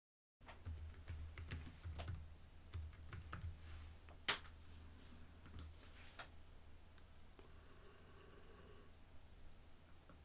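A computer keyboard is used to type a search, giving quiet, quick, irregular clicks in bursts with short pauses and no talk.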